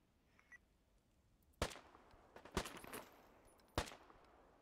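Three sharp, separate single-fire gunshots ring out in the video game Deadside, each a sudden crack with a short tail, spaced about a second apart over a quiet background.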